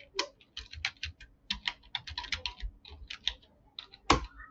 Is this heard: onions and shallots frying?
no